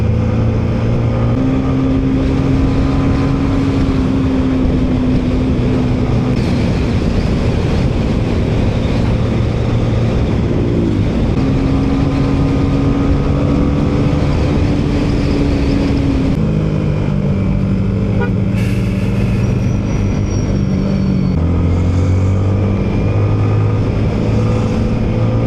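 A fast motorcycle engine drones loudly and continuously on a road from Tarlac City toward Calumpit, its pitch rising and falling with speed changes under steady wind and traffic noise.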